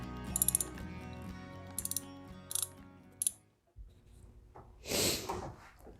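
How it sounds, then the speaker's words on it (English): A ratchet wrench tightens the harmonic balancer bolt on a car engine during a head gasket and timing belt job, giving several quick close clicking bursts followed by a brief pause and a few softer mechanical sounds. "Now I'm just going to tighten up the harmonic balancer here."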